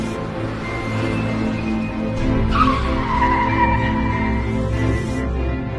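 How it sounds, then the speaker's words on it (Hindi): A cartoon car pulls up and skids to a halt, its tyres squealing in a long, loud screech that rises and then trails off over a steady engine hum, with no talking. "एक गाड़ी आ रहा है"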